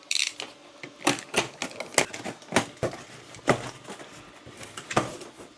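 Someone unpacks a boxed Prusa Box 2 enclosure for a 3D printer, producing irregular close clacks, taps and rustles of packaging, several sharp knocks spaced through quieter handling noise, with no speech.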